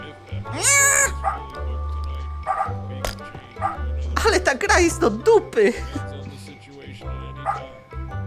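Dog barks, yips and whimpers from a VR video game, several short bursts spread across the stretch, heard alongside someone talking.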